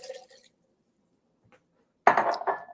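Water splashes into a cooking pot of black beans for chili, a short loud splash near the end after a brief clink and near silence.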